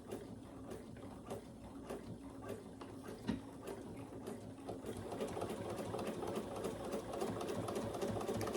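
A Bernina sewing machine back stitching, with a rapid, even mechanical whir and ticking needle rhythm running steadily and close, quiet overall and picking up slightly partway through.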